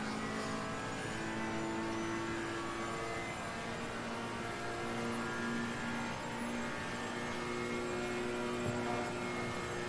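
Ferrari 488 GT3 EVO racing at Spa in Assetto Corsa Competizione, a steady loud engine drone with held harmonic tones running throughout, no speech over it.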